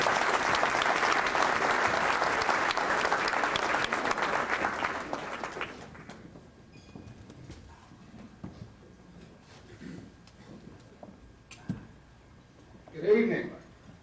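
Audience at a 1998 scholarship gala applauds Sammy Thompson with steady, dense clapping for about six seconds, which then fades into quiet room murmur and a few faint sounds.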